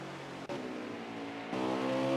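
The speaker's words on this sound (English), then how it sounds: "he's having issues getting the car fired back up" A race car engine at Watkins Glen, started again after a spin, hums steadily and then steps up to a louder, higher drone, heard fairly close with no talk over it.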